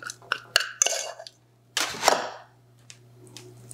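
A cooking pan knocks and clatters as it is set into an oven, a handful of sharp metallic clanks followed by a brief scraping slide, then quiet.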